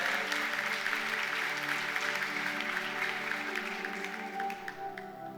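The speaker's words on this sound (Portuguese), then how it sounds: "Dê uma salva de palmas ao Senhor" A church congregation claps for the Lord during an evening service, a continuous wash of many hands at moderate distance over sustained organ or keyboard chords, thinning slightly toward the end.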